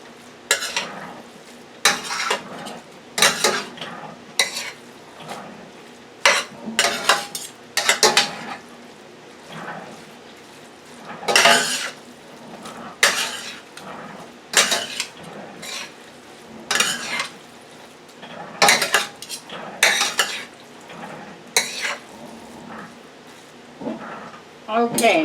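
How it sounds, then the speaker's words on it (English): Seafood ramen noodles with teriyaki sauce being mixed in a pan like a stir fry, repeated loud scraping and clattering of utensils against the pan in irregular bursts, with talk between them. "let's just mix this up like a stir fry"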